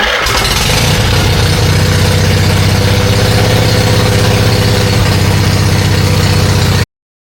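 An Onan Emerald generator engine starts and runs at a steady, loud idle, its even low drone holding close and unbroken before cutting off sharply.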